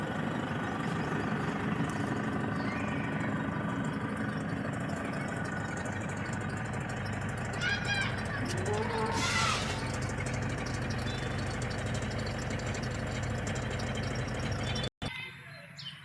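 2014 Toyota Innova engine idling, a steady low mechanical hum heard near the vehicle with a brief higher whine in the middle, as someone speaks over it.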